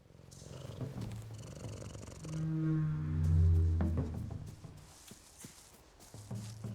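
A cat purrs in the video game Fera: The Sundered Tribes, a steady low rumble that swells louder in the middle, with faint footstep-like thuds and ambient game sounds around it.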